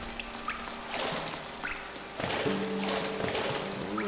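Water pours in a video game, a soft steady trickling and splashing heard at close range for a few seconds with no voices over it.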